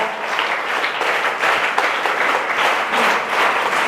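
A room full of schoolchildren and teachers applauds at a school event, dense steady clapping close by that holds at a loud level for several seconds.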